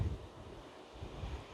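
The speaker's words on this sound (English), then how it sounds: "because it's just so windy and rainy" Strong wind buffeting the microphone on a rocky coast in rain and thick fog, gusting in uneven low rumbles across a brief stretch, with no talking.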